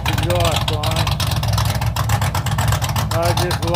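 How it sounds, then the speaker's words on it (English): A 1986 Ford Mustang GT running on a full 2.5-inch exhaust with no mufflers in cold weather, giving a loud, steady, throbbing idle rumble throughout, with a person talking over it. "I run full exhaust on this car at the back, no mufflers."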